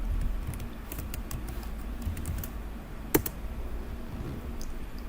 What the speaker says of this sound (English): We now go to this VS Code and type exit.